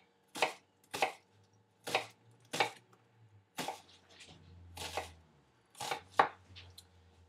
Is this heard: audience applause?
no